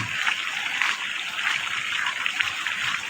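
Water pumped by an electric motor generator gushes and splashes steadily close by, a continuous rushing flow with no voices.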